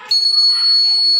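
A homemade DIY door alarm buzzer switches on abruptly, holding a loud, piercing, steady high electronic tone close to the microphone for about a second.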